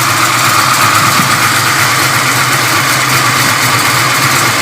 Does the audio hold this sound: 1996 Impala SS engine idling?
yes